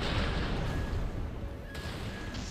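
Gatling gunfire in the mech combat game Armored Core 6, a dense, continuous rattling stream of rapid shots that sits at a moderate, fairly distant level and rolls on without a break.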